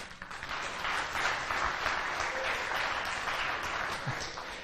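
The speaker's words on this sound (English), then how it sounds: "Round of applause." Audience applause at a NorthSec 2015 security conference talk, a steady, dense wash of clapping from a large seated crowd that holds evenly for several seconds.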